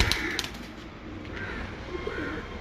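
Breeder pigeons cooing softly in a loft, low murmuring coos repeating over a faint background hiss, with a few brief wing flutters near the start.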